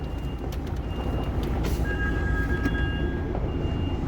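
A lorry backing up while jackknifing its trailer sounds a regular series of high reversing beeps over a continuous low engine and road rumble, with no speech.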